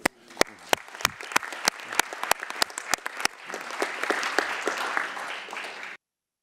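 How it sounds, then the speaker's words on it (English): Audience applause at a sustainable energy conference session, starting with scattered sharp individual claps that quickly build into dense, steady clapping from a crowd, continuing for several seconds before stopping abruptly. "can I just pause and ask everyone to clap the progress that's been achieved so far?"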